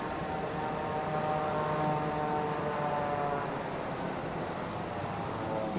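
An airplane engine idles on the runway in Microsoft Flight Simulator, a steady broadband roar with a faint tonal whine that holds at an even level from start to finish.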